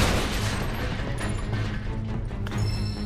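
Gunfire in Final Fantasy 7 Remake on PS5, rapid rattling shots mixed with clanking mechanical impacts and booms, loud and continuous throughout.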